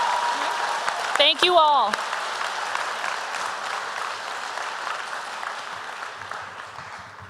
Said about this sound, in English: give one more round of applause for our veterans and our Scholastic